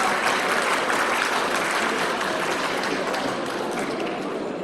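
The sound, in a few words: audience applause welcoming a guest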